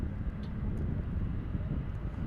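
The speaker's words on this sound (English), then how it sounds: "This 777, I think, is departing." A Boeing 777 jet airliner departing from DFW Airport in Texas, heard as a steady, broad engine roar with low rumble and wind buffeting, continuous and fairly distant throughout.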